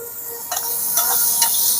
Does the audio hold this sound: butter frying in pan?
yes